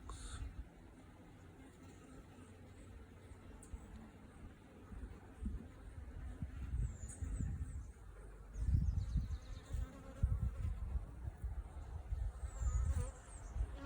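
Honeybees buzz around an open hive during a beekeeper's inspection, a constant soft outdoor hum with individual bees droning past close by, swelling louder in the second half.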